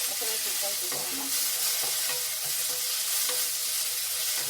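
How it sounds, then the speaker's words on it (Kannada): Green chillies frying in oil in a pan with cloves, a steady close sizzle with scraping stirring strokes throughout, no talking. "ಸ್ವಲ್ಪ ಹಸಿಮೆಣಸಿನ್ಕಾಯಿ ಹುರ್ಕೊಂಡು"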